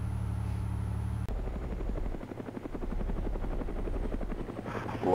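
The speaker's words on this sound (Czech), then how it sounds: "to je ten vrtulník" A helicopter flying overhead in the PC game DayZ Mod, its rotor chopping steadily and loudly after a sudden cut from a quieter hum, with no voices.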